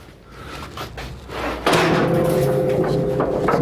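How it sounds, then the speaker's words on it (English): A heavy steel door on a metal baler for aluminum cans swings shut with a loud clang at mid-clip, leaving a sustained ringing, humming resonance afterward; faint handling noises come before it. "okay, now we close our door."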